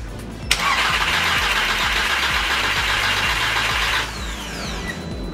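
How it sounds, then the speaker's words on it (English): A VW 2.0T TSI engine with its coil packs disconnected is cranked over by the starter without firing. The steady, loud, close whirring lasts about three and a half seconds and then stops abruptly. "We're just gonna give it a quick crank just to get some oil pressure through the engine"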